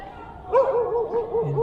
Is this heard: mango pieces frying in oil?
no